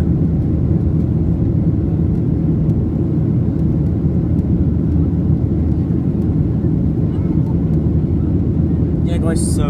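Inside the cabin of a Ryanair Boeing 737-8AS in flight, a loud, constant low engine roar carries on without a break, with a brief voice near the end.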